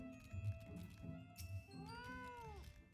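The fat cat mount from the video game Final Fantasy XIV gives a drawn-out, wavering meow that bends up and down, sitting over steady game background music at moderate volume.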